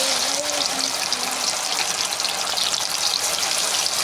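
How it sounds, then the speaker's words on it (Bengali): Loitta fish pakora fry in hot oil in a wok. A close, steady, loud sizzle with crackling hiss runs throughout, marked by a brief tonal squeal near the start. "ফ্রাই করে নেব। দেখো, আমি কড়াইতে দিয়ে দিলাম"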